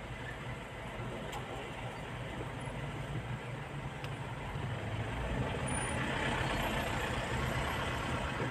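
Steady road traffic on a busy Riyadh road heard from inside a moving vehicle, a continuous low rumble of engines and tires that swells slightly louder toward the end, with no talking.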